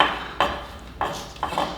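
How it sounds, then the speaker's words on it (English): A knife chops fragrant chili ingredients into fine bits on a board, giving four or five sharp knocks at an uneven pace, close and clear against a quiet room. "Chopping these up into fine bits, kind of hard."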